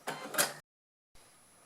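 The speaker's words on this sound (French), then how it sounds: "Et je fais mon point d'arrêt quand j'arrive à la fin de mon tissu." A sewing machine backstitches at the end of a piece of waterproof fabric while a zippered beach pouch is sewn, giving a short, quiet whirring burst, then a pause and a softer buzzing.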